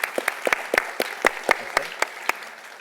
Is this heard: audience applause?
yes